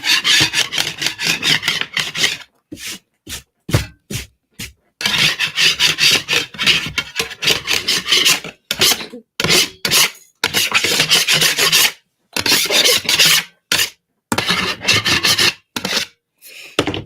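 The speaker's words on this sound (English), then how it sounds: "Use a scraper." Rhythmic rasping strokes of a scraper dragged across a surface, coming in bursts with short pauses between them, close and fairly loud, with no talking.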